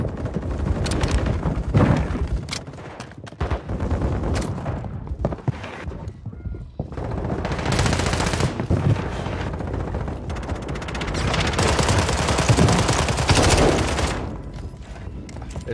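Rapid SMG gunfire in an online shooter video game, loud sustained bursts of automatic fire with short pauses between volleys, near and dominant.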